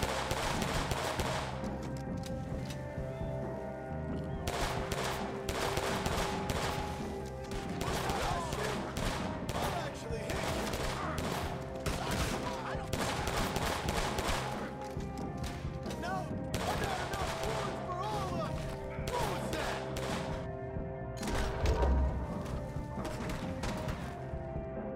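Dual-wielded pistol from the third John Wick film, modded into Red Dead Redemption 2 in place of the M1899, firing in rapid bursts of sharp shots amid game ambience, with a voice talking over it.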